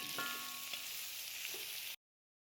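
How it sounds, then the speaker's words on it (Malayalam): Chopped onions sizzle steadily in hot oil in a pan, a close, even hiss with a few faint clinks, lasting about two seconds before cutting off. "അതിലേക്ക് നമ്മൾ അരിഞ്ഞു വെച്ചിരിക്കുന്ന സവോള ആഡ് ചെയ്യാം. എന്നിട്ട് നല്ലപോലെ വഴറ്റി കൊടുക്കുക."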